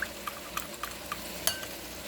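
A spoon stirs cornstarch diluted with pineapple juice in a bowl, giving quiet, light clinks roughly every half second with soft swirling between them.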